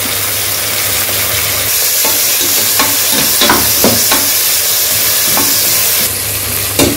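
Fresh mint and coriander leaves sautéing in a pan for homemade chicken biryani, a loud continuous sizzle broken by a few scraping stirs of the spoon partway through, with no talking.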